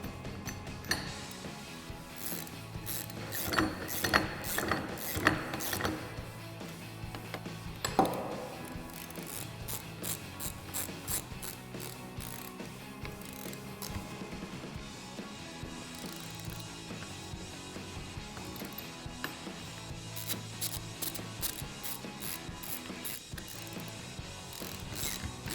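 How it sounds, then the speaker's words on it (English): A ratchet with a 17mm socket tightens a bolt on a 2014-2020 Ford F-150 upper control arm suspension lift, making rapid clicking bursts with short pauses between them. It is close and metallic, with no talk. "Now we'll tighten it down with our 17mm socket."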